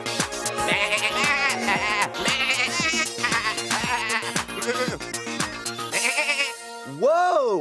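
Cartoon sheep on a farm bleat in a lively rhythmic run over bouncy music, loud and close, then a final long wavering bleat stands out near the end.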